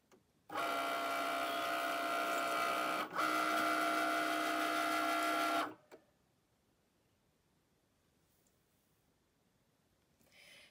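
A cutting machine fitted with a Foil Quill heat tip runs with a loud, steady mechanical whir and buzz for about five seconds, briefly dipping once, then stops abruptly, leaving near silence. Nobody speaks.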